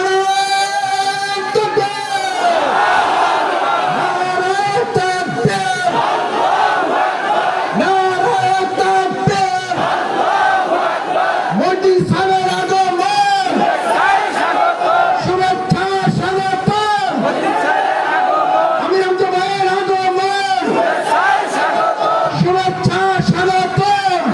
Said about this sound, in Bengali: আমরা তাদের সম্মানে তাকবীর দেই।